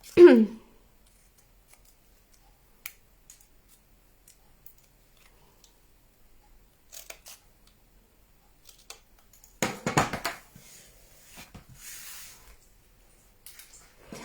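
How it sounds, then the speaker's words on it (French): Scissors snip through paper card in a few separate cuts, each one short and close, spread out between long quiet gaps. "Finalement, je vais couper comme ça."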